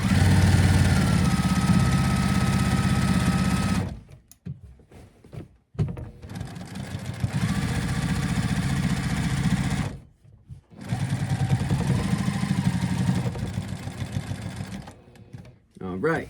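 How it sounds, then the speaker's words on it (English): A sewing machine runs steady stitches through patchwork hoodie fabric, a continuous close motor whir in long bursts broken by short pauses for pivoting, with a voice talking over it. "I'm just gonna now start sewing that second line, which I call a secure line for patches."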